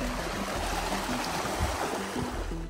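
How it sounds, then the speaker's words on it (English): Water splashing and churning in a Louisiana swamp stirred by alligator gars, a steady, close wash of turbulent water with low rumbling surges running throughout, no voices. "With scary splashes and sudden movements, it almost seemed like the swamp was possessed."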